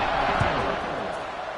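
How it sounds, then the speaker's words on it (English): A stadium crowd at a football game keeps up a dense, steady buzz of many voices and noise, loud and unbroken across the whole moment, with a few faint thumps inside the wash. "this crowd is buzzing after that last score"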